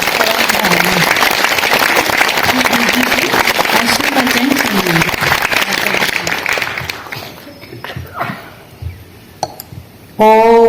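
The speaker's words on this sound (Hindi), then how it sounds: "तो इतनी जोर से ताली बजाइए कि शिव बाबा को सुनाई दे" Loud, dense applause from an audience at a Holi picnic gathering, sustained for about seven seconds before thinning to scattered claps and fading out.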